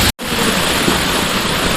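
A waterfall in Kanyakumari roars as a loud, steady wash of broadband rushing water, close by and continuous after a brief dropout at the start.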